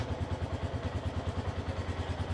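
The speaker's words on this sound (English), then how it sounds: "So I'm going to turn this on, this motorcycle on. I'm going to allow it to idle for a bit." A TVS HLX 150X motorcycle idles close by, its single-cylinder engine putting out a steady, even chugging pulse with a light mechanical clatter, running alone without any talking.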